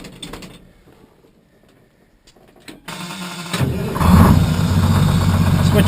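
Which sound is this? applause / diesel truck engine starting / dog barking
diesel truck engine starting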